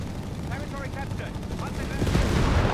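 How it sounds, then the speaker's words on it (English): A .30 cal machine gun rattles in bursts during a Company of Heroes 3 battle as it suppresses a Panzer, layered with other gunfire and rumbling battle noise that grows louder toward the end; someone talks over it. "Panzer there suppressed by the 30 cal there"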